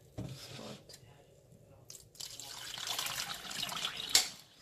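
Water pours into liquid castile soap paste to dilute it, a close splashing, gurgling stream that builds after a couple of brief knocks and peaks near the end.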